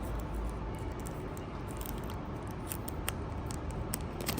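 New AirPods-style wireless earbuds in their box being opened by hand, a steady soft rustle and scrape of packaging close up with faint ticks, no talking.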